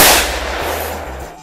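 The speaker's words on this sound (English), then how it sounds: "taping the actual impact of the 44 Magnum hitting the target" A single loud, close .44 Magnum revolver shot strikes a target, a sharp blast that decays into a booming rumble.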